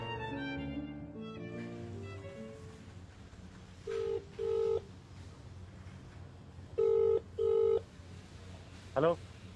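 A mobile phone on speaker plays a series of short keypad dialing tones, several quick beeps in pairs over faint background music and room noise.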